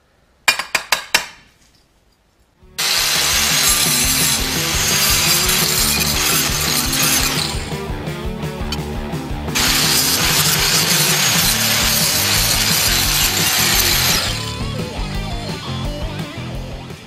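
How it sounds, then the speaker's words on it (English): A loud power drill grinds steadily into a metal bracket for a coolant overflow tank on a 1995 Firebird, whining continuously with shifts in pitch as pressure changes, after a few sharp clicks at the start. "now I will drill the other mounting holes to mount to the inner fender well"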